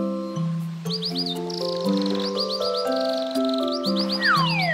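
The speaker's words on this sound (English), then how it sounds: "Are you having fun playing with the birds?" Birds chirp in the Naughty Bear video game, bright repeated tweets and rising calls over a chiming melodic music bed, steady and close, without voices.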